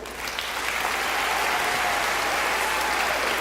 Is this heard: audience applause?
yes